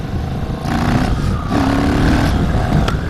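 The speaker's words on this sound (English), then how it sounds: "There's a wheelie." A motorcycle pops a wheelie on a road ride, its engine revving hard and loud near the microphone with rising and falling pitch and some rattling clatter.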